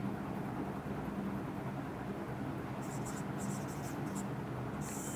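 Marker or chalk scratching on a classroom board at a steady, close pace, set against constant background hum with light room noise, and no talk heard during the writing.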